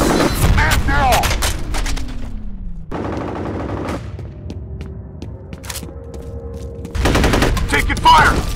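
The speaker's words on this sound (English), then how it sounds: "Taking fire!" Gunfire in the F.E.A.R. Combat multiplayer video game on the Docks map: loud, dense bursts of automatic fire open and close the clip, with a steadier stretch of weapon and ambient game sounds in the middle.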